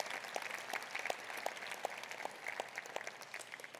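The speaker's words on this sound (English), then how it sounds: "yes, a big applause." An audience at a State of the City address in Nampa claps with sparse, distinct handclaps at moderate distance, fairly quiet and even, with little else heard.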